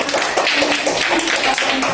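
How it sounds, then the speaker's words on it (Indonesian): A class of students gives a group round of applause in a classroom. Dense, steady clapping fills the whole brief moment at close range. "Kasih tepuk tangan"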